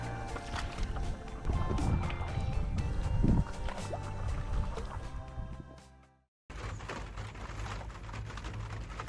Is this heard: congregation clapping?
no